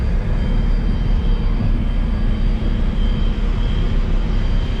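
A forage chopper harvesting corn in a muddy field roars as a loud, constant low rumble close by, with no talk.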